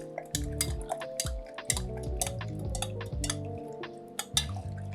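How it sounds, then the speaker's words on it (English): A spoon stirring freshly brewed coffee from an Etkin 8-cup dripper, ringing clinks against the vessel repeating quickly and steadily, bright and close with lingering metallic tones. "something that I always do before I taste coffee is stir it, or you can swirl it if you like"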